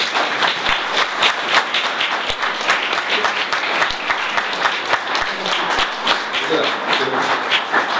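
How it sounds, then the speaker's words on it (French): At the end of a public talk on democracy in Metz, an audience claps in sustained, even applause with a few sharper nearby claps, with no talking over it. "On peut remercier Étienne en l'applaudissant."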